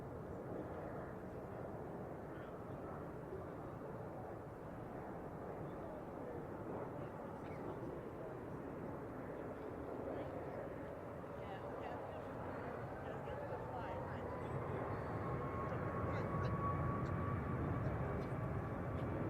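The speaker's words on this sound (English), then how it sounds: "It's a Boeing 737 coming in." An Aeromexico Boeing 737 arriving at San Francisco airport makes a faint, distant rumble that slowly builds, with a rising engine whine emerging toward the end.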